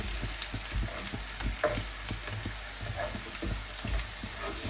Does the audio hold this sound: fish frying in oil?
yes